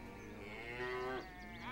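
A single drawn-out cow moo rising and falling in pitch, clear and close over a steady low background hum.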